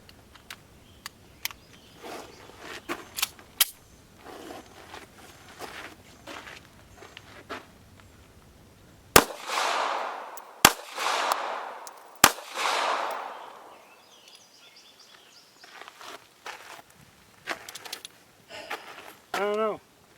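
Three sharp gunshots from a Taurus PT738 .380 auto pistol fired outdoors, loud and spaced over a few seconds, with scattered handling noises and footsteps before and people talking afterward.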